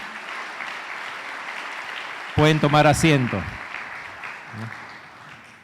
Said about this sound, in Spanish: Vamos a darle un aplauso al Señor, hermanos.